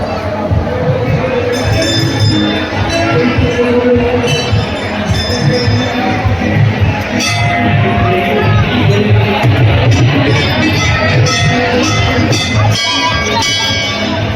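Packed crowd at the Shani Dev temple in Phillaur, Ludhiana, on Amavasya: constant loud babble of many voices, with temple bells and metallic clinks ringing out intermittently over the hubbub.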